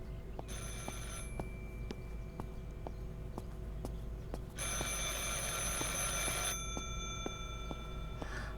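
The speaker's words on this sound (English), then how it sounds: "I should pick up the phone but remain silent." A telephone rings in the game Martha is Dead, two long bursts of bright electric bell ringing over a steady ticking clock in a quiet room.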